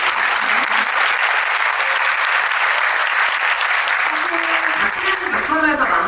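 Steady audience applause fills a screening Q&A event, dense and sustained clapping from a crowd with a few voices talking faintly beneath it.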